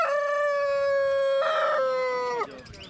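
A rooster at a pet and small-animal market in Monor crows one long, loud, drawn-out call that rises and then drops off sharply at the end, with faint crowd noise behind it.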